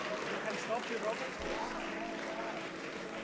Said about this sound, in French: On peut applaudir bien fort les 2 équipes qui viennent de terminer ce deuxième match.